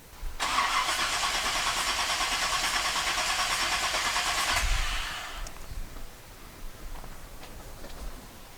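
A Chevy small block engine cranks steadily on the starter for about five seconds during a compression test. The buzzy churning then cuts off, and a few faint knocks and handling sounds follow.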